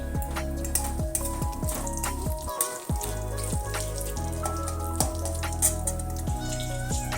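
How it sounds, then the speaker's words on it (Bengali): Ginger and slit green chillies fry in hot oil in a pan, a steady dense sizzle with small crackling pops running throughout, close and fairly loud, with a brief lull partway through. "আদা লঙ্কা সব কিছুই দেখো ভাজা ভাজা হয়ে এসেছে"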